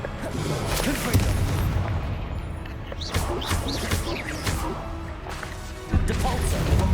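Repeated booming spell blasts from Hogwarts Legacy, the Confringo explosion, burst over a dense, continuous layer of game noise and crashes, with a heavy thump near the end and voiced shouts mixed in.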